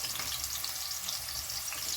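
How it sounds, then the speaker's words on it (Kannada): Chopped onions dropped into hot oil in a pan, producing a bright, continuous sizzle and crackle, close by and alone. "ಸೊ ಎಣ್ಣೆ ಕಾದಿದೆ ಆಲ್ರೆಡಿ. ಸೊ ಇವಾಗ ಈರುಳ್ಳಿನ ಹಾಕೋತೀವಿ."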